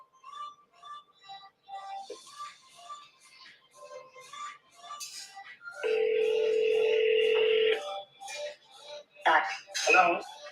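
A telephone ringback tone plays on an outgoing call, a steady two-second ring between bursts of conversational talk, with a clink-like click just before it starts.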